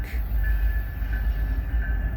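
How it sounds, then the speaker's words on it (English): A Florida Gulf and Atlantic Railway train passes on the outside track near Tallahassee, a loud, close, continuous rumble with a faint high wheel squeal running through it. "Florida Gulf and Atlantic Railway."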